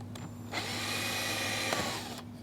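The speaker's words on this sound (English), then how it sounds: "I'm gonna be using a 1/8 drill bit in order to get the screw started" A power drill fitted with a 1/8 inch bit bores a starter hole for a self-tapping screw during a fishfinder install, a steady close whirring burst of about two seconds with no talk.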